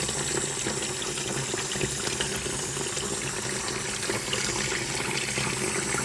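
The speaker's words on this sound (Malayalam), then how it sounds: "ഒരുപാട് പ്രാവശ്യം കഴുകിയാൽ വൃത്തിയായി കിട്ടുള്ളൂ" Water runs continuously from a tap, splashing softly as fish are rinsed, a steady, fairly quiet gush with no talking.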